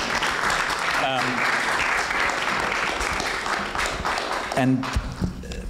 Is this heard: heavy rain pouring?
no